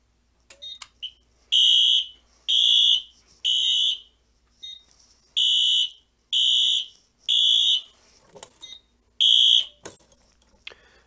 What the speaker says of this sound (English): going to test the heat detector. So let me grab my lighter.